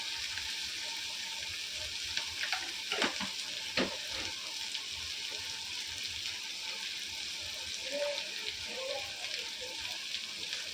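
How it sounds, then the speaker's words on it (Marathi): Green chili, onion and garlic fry in a pan with a steady bright sizzle throughout, broken by occasional louder crackles and a few soft scraping sounds. "कांदा आपला फ्राय होत आहे"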